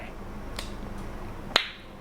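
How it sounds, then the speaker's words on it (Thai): Finger snaps keep time with a beginner guitar strumming rhythm: two faint snaps, then one sharp, close snap near the end, over a quiet background. "ถ้าใครดีดนิ้วได้ ก็ดีดนิ้วตามหรือตบมือก็ได้"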